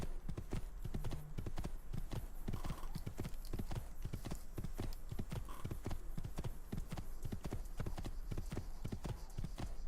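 Horse hooves gallop in Assassin's Creed II, a fast, steady clip-clop rhythm of sharp hoof strikes repeating evenly throughout, close and loud.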